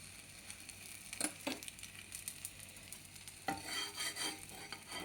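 Bread slices toasting in ghee in a pan, a soft steady sizzle with a few sharper scraping stirs and clinks of a utensil near the start and again toward the end, no voices.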